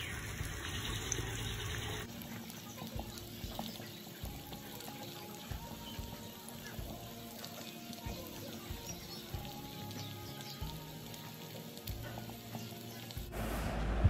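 Pasta in red sauce being stirred in a pan, a quiet, continuous sizzle with soft scraping and wet stirring sounds throughout.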